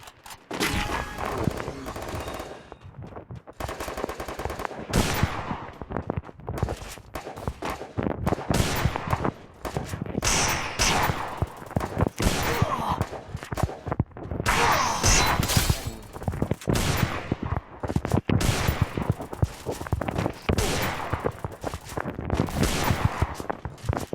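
Free Fire video game gunfire, bursts of rapid shots and single cracks repeating irregularly throughout at moderate level, with occasional impact sounds.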